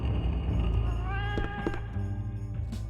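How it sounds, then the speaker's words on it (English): In the 1999 World War II shooter game MORTYR 2093-1944, a cat meows once or twice with a rising, drawn-out cry over a dense, rumbling background of game ambience. "And I'm hearing that cat again."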